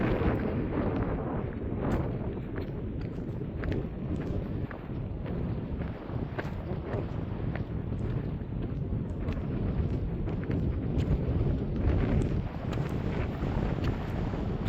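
Strong wind buffets the microphone outdoors near Wild Horse Window, a continuous rough roar with gusty swells and no voices.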